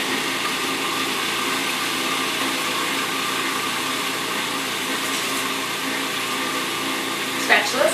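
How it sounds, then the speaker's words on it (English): A food processor grinds raw superfood ball ingredients, a steady, loud motor whir with coarse churning that runs unbroken for several seconds before a brief clatter near the end. "Now I'm just going to grind this up in the food processor until it's finely ground and starts to ball a little bit"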